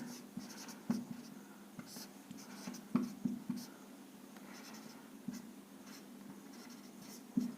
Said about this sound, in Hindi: अब यहां पर लिख देंगे 2 लाइन